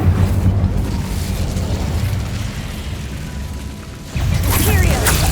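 In the Hogwarts Legacy video game, an Incendio fire spell blasts a barricade: a booming, crackling burst of flame and debris that rumbles on under game music, swelling again toward the end.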